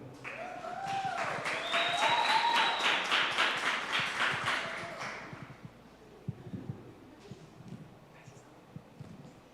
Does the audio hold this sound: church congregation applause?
yes